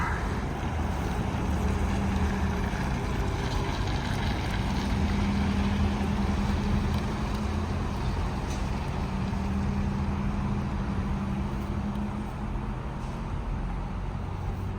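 A 2025 Toyota Tacoma pickup pulls a heavy load in fifth gear, its engine holding a steady low drone that stays loud and continuous, with road and wind rumble running underneath throughout.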